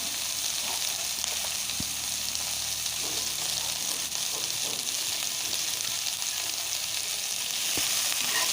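Onions frying in a pan hiss and sizzle steadily, a dense crackling texture with a few faint clicks. Continuous and fairly close with no voices.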